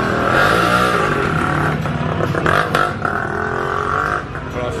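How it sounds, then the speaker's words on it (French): Motorcycles thread through the traffic lanes of Bangkok's Chinatown, with close engines buzzing and revving over a busy street din, pitches sliding up and down as bikes pass. "Les motos ça circule dans les couloirs aussi"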